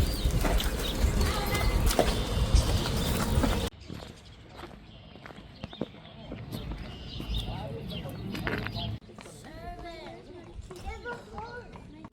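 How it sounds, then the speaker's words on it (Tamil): A horse-drawn cart on an Amish farm: hooves clip-clop on the ground amid farmyard ambience with birds, while someone talks over the scene throughout. "குதிரை வண்டி பூட்டிட்டு இருக்காங்க அவங்க இங்கே வெளியே போகிறதுக்காக."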